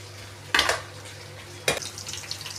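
Onion, cinnamon and a couple of cloves fry in a pan with a soft continuous sizzle, broken by two sharp stirring scrapes against the metal. The sound is close, with no speech.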